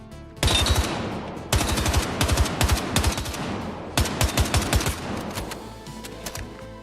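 Light machine gun fire in Battlefield 6: three loud, close bursts of rapid automatic shots separated by short pauses, with a steady battle rumble underneath and no talking.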